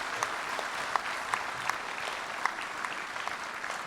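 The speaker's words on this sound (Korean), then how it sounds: "여러분 다시 한번 큰 박수를 부탁드리겠습니다." Audience applause at a Korean military change-of-command and retirement ceremony for the Chairman of the Joint Chiefs of Staff, a steady, even wash of clapping with a few sharper individual claps, heard from a moderate distance.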